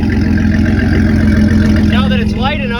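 A Chevrolet S-10 with a 2.8 engine idles steadily after a distributor replacement, a continuous close, loud low hum with even pulsing and no breaks, joined by another brief tonal sound near the end.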